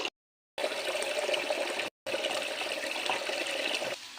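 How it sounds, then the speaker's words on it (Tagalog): Water pours splashing into a mini washing machine in two loud, continuous runs separated by brief silent pauses, then the flow eases off near the end. "sinisimulan ko ng kumuha ng tubig na ilalagay ko sa mini washing machine."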